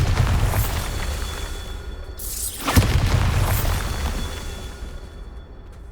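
A Bombarda spell blast in Hogwarts Legacy on PS5, one heavy booming explosion with a brief rushing sweep, loud and close against a dense rumbling game backdrop.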